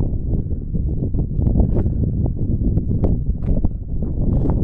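Wind buffets the microphone at a mountain reservoir near waterfalls, a continuous low rumbling roar with uneven gusts and occasional faint knocks.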